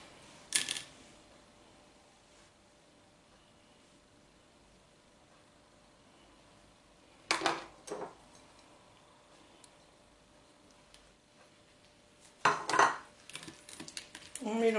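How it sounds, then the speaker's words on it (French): A cream cheese mixture with crème fraîche is stirred in a bowl, giving a few sparse bursts of scraping and clinking separated by long quiet stretches. "On mélange la préparation."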